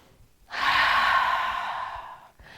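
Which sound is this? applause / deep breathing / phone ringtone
deep breathing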